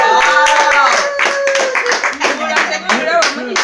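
Applause at a surprise birthday celebration, a burst of close, lively clapping that carries on throughout, mixed with excited voices and cheering over the top.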